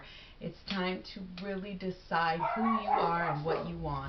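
Dogs give a few muffled yips and barks in the background, partly masked by a person talking clearly in the foreground.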